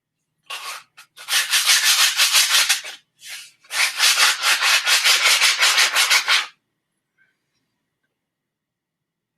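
Abrasive sanding of the opening around a crystal, heard as close, brisk back-and-forth rubbing strokes in two runs of a few seconds each, then silence.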